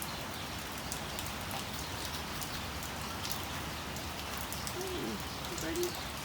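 Steady light rain falls outdoors, a faint, even patter that continues without a break.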